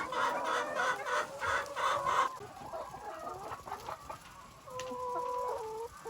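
Hens on an organic egg farm cluck in short repeated bursts close by, with fainter clucks and a crowing call further back, and no voices present.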